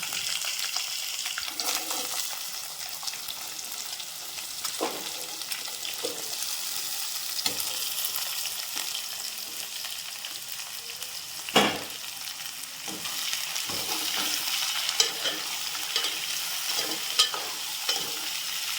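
Ivy gourd pieces fry in oil in a pan, giving a steady soft sizzle with occasional stirring scrapes and clinks, fairly quiet and close.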